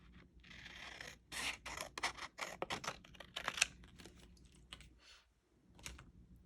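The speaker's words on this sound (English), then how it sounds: "Where are my scissors? Okay. I'm going to cut this down." Scissors snip through paper to trim a holiday tag in a craft room, a quick run of close, crisp cuts and rustles, then a pause and a few more scattered snips.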